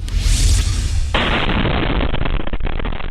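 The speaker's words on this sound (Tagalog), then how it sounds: "pagsabog ng mga paputok sa isinasagawang firework disposal sa Zamboanga City kahapon" Fireworks going off during a firework disposal in Zamboanga City: a loud, continuous roar of blasts and crackling, with a rumbling burst in the first second giving way to dense, sustained crackle.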